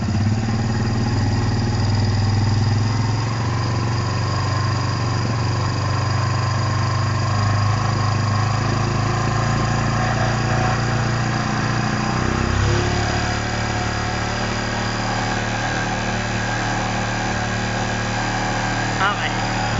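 A Kawasaki Barako 175 motorcycle engine, fitted with a fullwave electrical setup, idles in a steady low putter for the whole stretch, loud and close, while people talk over it.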